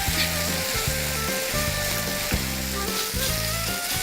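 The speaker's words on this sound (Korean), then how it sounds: "고루고루 섞이게 볶다가 이제 밥을 넣겠습니다." Rice stir-fried in a pan with spoon worm, oyster sauce, ginger juice and chili powder gives a steady, close sizzle that runs unbroken through the whole stretch, with no talking.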